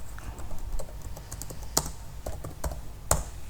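Someone types on a computer keyboard while working in Microsoft Word, irregular key clicks close up with a few sharper presses, no talking.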